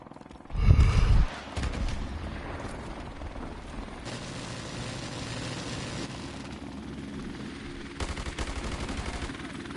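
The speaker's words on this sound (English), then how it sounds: "Enemy helicopter inbound." Enemy helicopter rotor drone and rattling automatic gunfire in Call of Duty: Modern Warfare Remastered, a loud burst of shots early on, then a steady helicopter hum with more gunfire bursts near the end, no talking.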